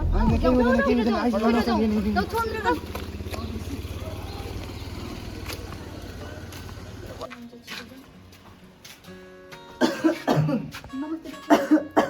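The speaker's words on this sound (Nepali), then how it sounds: "उहाँलाई एकदम लगातारै खोकी लागिरहेछ होइन, खोक्दा पनि ब्लड निस्किरहेछ" A sick man with a persistent cough that brings up blood, seen at a doctor's clinic, coughs in several harsh bursts near the end, after a stretch of talk and a background tune.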